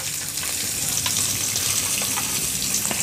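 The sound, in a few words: chopped onion, garlic and spices frying in oil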